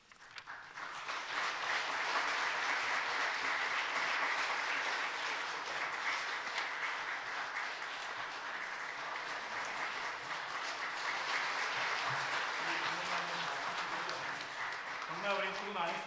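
A church congregation claps warmly for retiring elders at a special thanksgiving service, steady dense applause sustained throughout, with a faint voice surfacing near the end.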